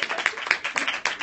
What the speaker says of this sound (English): And just please clap for her